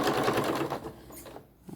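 A sewing machine stitching a fabric pumpkin hotpad gives a soft, steady whirring run that slows and fades toward the end, fairly quiet and close.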